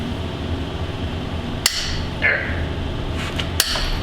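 A breaker bar with a 12mm 6-point socket works a tight cylinder bolt on a Grizzly 600 engine, giving two sharp metallic clicks and a brief scrape over steady background noise, with no talking.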